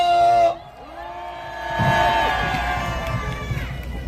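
Crowd at an outdoor political rally in Ulsan cheers and shouts in welcome, with a swelling roar of voices and whoops that rises after a brief drop and continues loud to the end.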